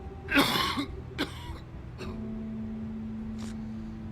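A few harsh coughs and throat-clearing bursts close up from a character in the video game The Wolf Among Us, the first loudest, then fading into a low steady hum.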